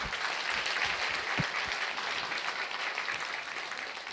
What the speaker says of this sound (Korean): 이중사님께 박수 한번 주십시오.